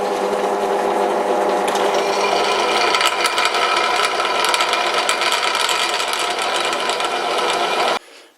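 A drill press with a 6.8 mm bit hums steadily and loudly while cutting a hole for tapping, a continuous mechanical whir with a rattling edge that cuts off abruptly at the end.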